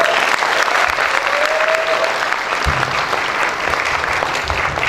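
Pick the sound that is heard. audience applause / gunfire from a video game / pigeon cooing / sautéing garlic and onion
audience applause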